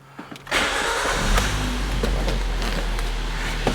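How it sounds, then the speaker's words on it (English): A car engine turns over after its fuel pump is fixed: a brief crank, then the engine catches and settles into a loud, steady running rumble with a few small revs, close and with no talking. "the engine starts right up"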